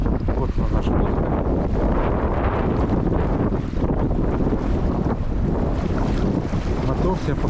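A boat with a Suzuki 9.9 outboard motor out on open water, heard as a steady, loud broadband rumble mixed with heavy wind buffeting and water noise throughout, with no voices.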